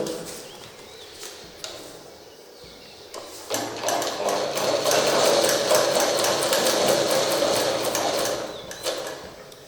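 A sewing machine stitches a dart in chudidar fabric. A few soft clicks come first, then the motor runs up into a loud, steady, close mechanical whir with rapid needle chatter that continues for several seconds before easing off.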